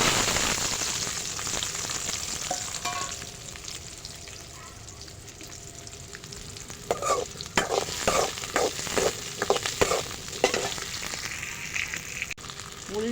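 Crushed small onions sautéing in a pan for a fish curry, a soft continuous sizzle that becomes busier later with repeated scraping and stirring knocks close by.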